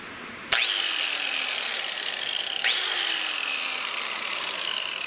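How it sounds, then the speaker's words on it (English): A corded DeWalt grinder spins up with a sharp start and settles into a loud, steady high-pitched whine, then gets a second brief boost partway through as it keeps running alone. "DeWalt grinder."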